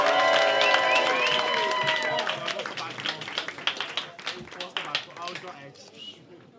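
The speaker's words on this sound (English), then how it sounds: "start clapping, start cheering, and welcome to the stage, Jack Jenkins!" A comedy club audience claps and cheers as an act is welcomed to the stage, loud and dense at first with whoops and shouts, then thinning into scattered claps that fade away.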